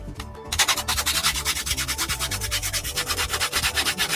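A homemade radius sanding block works along a guitar fretboard to remove burrs, making steady, evenly paced back-and-forth rasping strokes that are close and fairly loud, with no talking.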